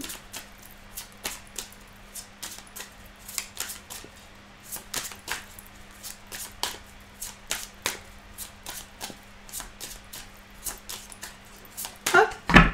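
A Musha tarot deck being shuffled and cut, giving a long run of sharp, dry card clicks and flicks at an uneven pace, close and fairly quiet, with a louder clatter at the very end.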